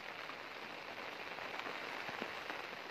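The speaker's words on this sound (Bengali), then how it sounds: "আপনারা হয়তো এখন শুনতে পাচ্ছেন বৃষ্টির আওয়াজ" Steady, dense monsoon-style heavy rain hisses continuously on surfaces over farm fields, heavy and even throughout, with a few faint drips standing out.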